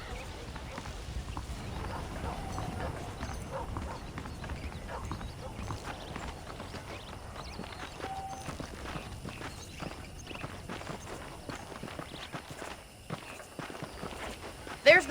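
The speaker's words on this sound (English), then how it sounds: "I picked out a fine horse for you." Horse hooves clip-clopping at a steady walking pace in Red Dead Redemption, a continuous rhythmic patter heard alongside ambient game sound and talk.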